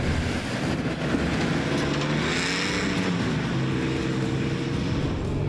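Toyota Land Cruiser 79 truck straining to drag a bogged vehicle out of soft sand, its engine a loud, continuous low drone with shifting pitch, heard close by with no voices.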